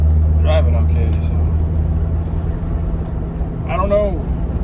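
A Volvo S60R on the move, heard from inside as a steady, loud low engine and road drone that runs without a break, with a couple of brief voice-like sounds over it.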